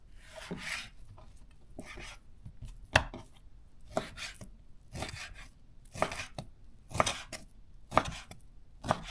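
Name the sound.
Zwilling knife cutting meat into cubes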